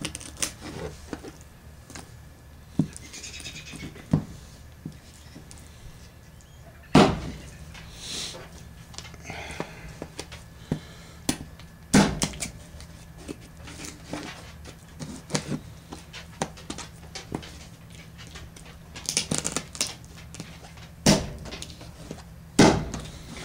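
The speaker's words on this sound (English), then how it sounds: "That noise is doggy door, of course." A dog door flaps repeatedly as dogs push through it, giving scattered sharp clatters and slaps of varying loudness against a faint background of light rustling, with no talking.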